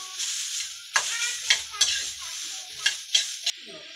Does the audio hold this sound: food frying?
yes